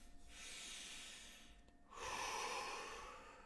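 Soft, close breaths in a quiet room: one long inhale and then a fuller, louder exhale, both airy and unhurried, with no talking.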